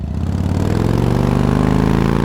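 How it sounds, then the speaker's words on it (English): A motorcycle engine from a transportation sound effects library idles close and loud with a throbbing, rhythmic putter, its pitch rising slightly as it settles into a steady, buzzing drone. "motorcycles"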